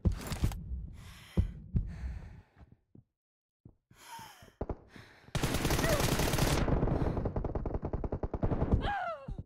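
Gunfire in the mobile battle game Free Fire, scattered single shots and short bursts that build into a long, dense run of rapid automatic fire near the end, with a few short spoken exclamations and breaths between them.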